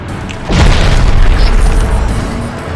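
A tank shell slamming into a building in Crysis Remastered: one heavy, loud boom with a long rumbling tail of debris and reverberation, close and filling the space.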